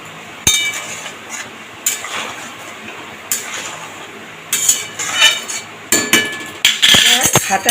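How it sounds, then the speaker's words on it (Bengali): Potatoes being mashed against a metal pan in a simmering vegetarian curry with a spoon or ladle, sharp repeated clanks and scrapes in an irregular rhythm, loud and close. "সাহায্যে আমি দু একটা আলুকে ফাটিয়ে দেবো তাহলে ঝোলটা ঘন হয়ে যাবে"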